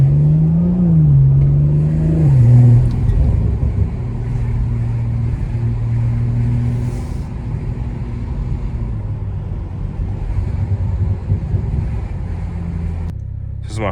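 A loud BMW 440i engine rumbles and revs up on a New York City street at night, pitch rising then settling into a steady drone as it drives on, close and continuous.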